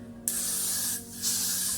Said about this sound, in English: You can actually use this as a holding spray, so I'm just going to spray a little bit